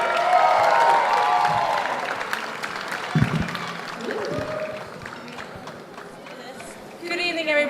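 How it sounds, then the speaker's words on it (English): Walima wedding guests applaud in a London Hilton hotel ballroom as a voice talks over them. The clapping is moderate, thins out in the middle, then swells again near the end. "Keep applauding all the way to the mic."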